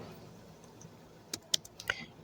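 A handful of sharp computer keyboard keystrokes, close and fairly quiet, land in a short burst near the end after a near-silent start, as an npm command is typed.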